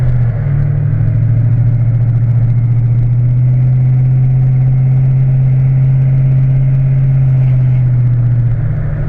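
A cammed Chevrolet Silverado pickup engine idles with a deep, steady, loping rumble, close and loud, holding a constant tone for several seconds.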